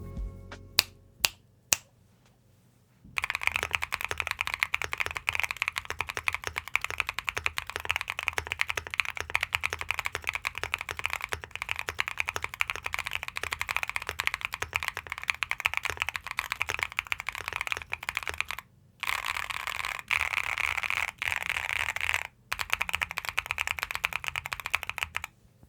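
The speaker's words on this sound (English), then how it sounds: "Here's the typing test." Typing on a Luminkey 65, a gasket-mounted 65% keyboard with polycarbonate plate and Moyu Studio Hera switches: a dense, fast stream of crisp clacky keystrokes, close and steady, with brief pauses and no speech.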